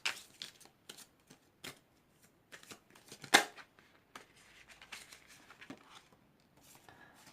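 A Heart and Soul Angel oracle card deck being shuffled during a tarot-style reading, with soft intermittent riffling and card slaps, one sharper snap partway through, fairly quiet and close.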